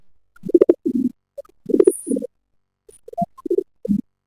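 Soft cooing and low throaty murmurs from a female pigeon, in several short grouped bursts with brief pauses, close by and fairly quiet.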